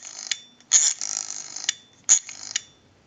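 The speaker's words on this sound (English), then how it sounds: "We also repaired the rotary, and now we are dialing out." Rotary dial on a repaired 3-slot 236G payphone spinning back, heard as short mechanical whirring bursts with small clicks, two main pulls close by in a quiet room.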